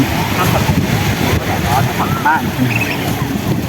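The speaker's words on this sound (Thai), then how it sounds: "ลมแรง" Strong wind buffets the microphone on a bright seaside beach, a steady broadband roar that fills the whole clip with gusty rumble and faint background voices.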